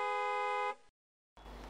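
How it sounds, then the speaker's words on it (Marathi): A car horn blares in one sustained honk for under a second, loud and close, then cuts to silence before street ambience returns. "कशाला मोठ्या मोठ्याने हॉर्न वाजवते बावळट?"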